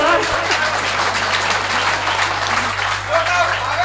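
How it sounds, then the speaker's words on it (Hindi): An audience at a Hindi comedy poetry show bursts into loud, continuous applause, a dense steady clatter of clapping with a low hum underneath and voices faintly mixed in. "समझ में आ गया हो तो जोरदार ताली ठोक दो एक बार"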